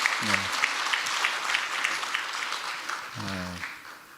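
Steady audience applause at a talk concert, many hands clapping at even strength throughout, with a voice speaking briefly near the start and again near the end.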